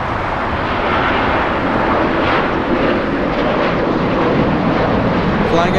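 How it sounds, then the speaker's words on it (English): Jet engine roar of a Boeing 787 Dreamliner airliner at Los Angeles International Airport, a loud, steady broadband rumble and whoosh that holds evenly throughout without a break. "We have the Mexican 787 Dreamliner."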